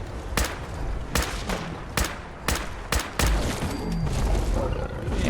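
Gunfire aimed at a Deathclaw in Fallout 4, with about seven sharp, loud shots spaced roughly half a second to a second apart over dense game noise, with no voices.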